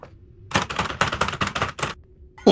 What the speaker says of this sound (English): Is that you typing, Alex?